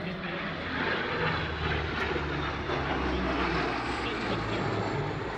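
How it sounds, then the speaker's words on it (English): A Lockheed Neptune warbird with propeller engines making a flypast at the Wings Over Illawarra airshow, a loud steady engine drone that holds close throughout, with no talking. "they provided a couple of flypasts from one of their Lockheed Neptunes"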